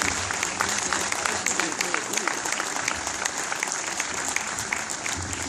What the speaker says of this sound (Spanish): Fuerte aplauso para el clon también